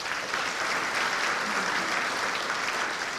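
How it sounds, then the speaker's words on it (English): Dense, steady applause from an outdoor crowd honoring military veterans at a 2019 Granite Falls ceremony, sustained and evenly loud across the whole span with no voices rising above it. "Let's give them all one more round of applause"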